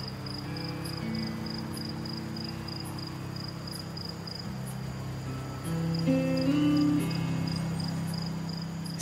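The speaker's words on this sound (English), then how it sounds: "This file that I called Cricket's Night Masai Mara." Crickets chirp steadily at night in the Masai Mara, a dense continuous insect chorus with a regular high pulsing over a low hum, close and alone with no talk.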